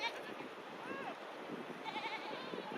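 Pashmina goats and sheep bleat faintly on high-altitude Himalayan pastures, several wavering calls spread across the flock under a soft, steady background hiss.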